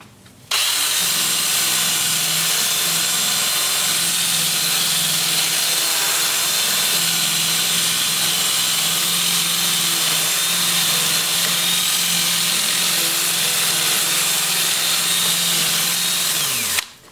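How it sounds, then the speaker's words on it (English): A power tool spins a 2-inch 80-grit sanding disc against turned wood, giving a continuous, loud, even motor whine for about sixteen seconds that winds down at the end. "I'll switch to my 2-inch sanding disc starting at 80 grit"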